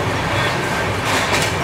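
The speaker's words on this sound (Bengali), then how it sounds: "ট্রেনও দুলছে, জলও ছলকাচ্ছে" Inside the 12863 SMVT Bengaluru superfast express at about 127 km/h, a loud, dense rumble of the swaying coach fills the moment, with any sloshing of water in the basin lost beneath it.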